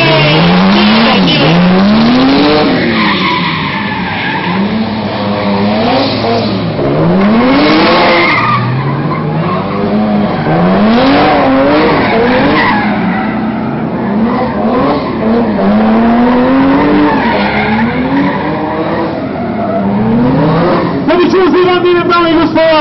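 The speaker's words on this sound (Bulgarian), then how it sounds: "мощен модел на марката BMW с BMW 30 2800 кубически сантиметра с турбо" Turbocharged 2.8-litre BMW drift car making 406 horsepower at a Sofia tuning show, its tires squealing in long rising and falling wails as the engine revs through repeated slides, loud and continuous under an announcer's voice.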